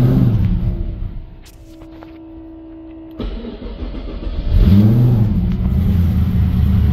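A tuned car being prepped for Summernats, with its exhaust refitted, cranks over and fires up, then idles with a deep rumble before a loud rev swells and holds, close up and with no talk.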